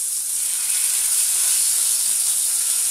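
Bacon slices for a pork chop and bacon curry fry in a hot pan, giving a loud, continuous, even hiss and sizzle that runs uninterrupted, with no talking.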